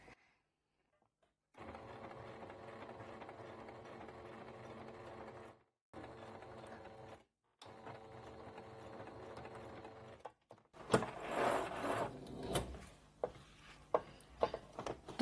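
Domestic sewing machine stitching a curved seam with bias binding, heard in three steady runs of motor whir and rapid needle clatter separated by brief pauses, then a burst of louder handling clatter and clicks near the end.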